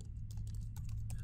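Rapid keystrokes on a computer keyboard, a quick irregular run of sharp clicks over a steady low hum, close and fairly quiet, with no talking.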